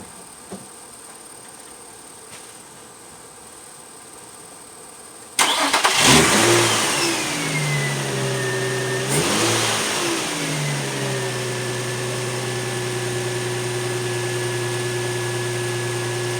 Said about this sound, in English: the car started automatically